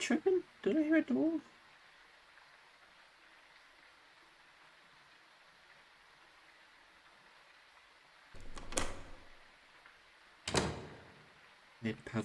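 A door opens or closes in the ghost-hunting game Phasmophobia, two short sharp thuds around eight and ten seconds into a quiet stretch, with a third clipped knock at the end and brief voice sounds at the start.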